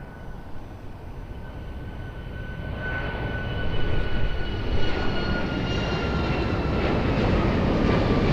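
Ryanair airliner taking off at Lisbon Airport, a broad jet engine roar that swells steadily over several seconds and holds loud near the end, with no talk over it.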